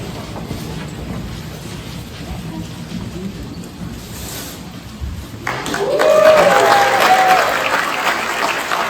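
A crowd in an indoor hall erupts into loud cheering and applause at a stamp dedication ceremony reveal, rising abruptly midway after a stretch of quieter room murmur and continuing strongly to the end.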